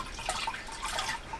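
Liquid draining and trickling from squeezed grain bags during extract brewing of an IPA, a soft continuous watery dribble up close.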